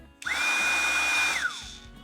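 A Flextail Max electric air pump switches on with a loud, steady high-pitched whine and airflow rush, holding for about a second before winding down, with no talking.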